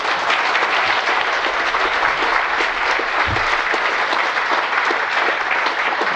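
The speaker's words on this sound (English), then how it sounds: "I think you deserve a round of applause for being here" An audience gives steady, dense applause throughout, a loud continuous wash of many hands clapping at a cancer survivors event.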